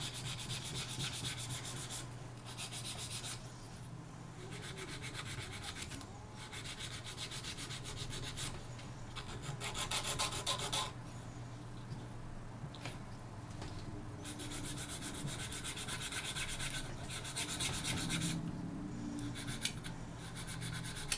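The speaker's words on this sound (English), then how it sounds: "now I'm going to take my file, I'm just going to clean it up once again, go back to my sides" A hand file rasps back and forth along the sides of an acrylic piece, long continuous scraping strokes repeating in a steady rhythm with brief pauses between passes, close and fairly loud.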